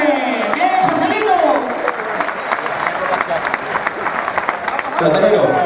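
Crowd applause and shouted cheers for a young bullfighter at a novice bullfighting exhibition in Cáceres, 2018; loud, dense clapping with voices calling out over it, swelling again at the end.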